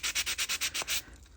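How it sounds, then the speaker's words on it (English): A sanding block is rubbed by hand across the bottom of a resin skull in eight quick, even back-and-forth strokes, close and soft, with a fainter scrape at the end. "I'm just going to give the bottom a little sand."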